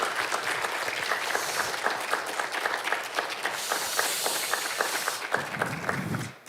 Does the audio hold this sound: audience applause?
yes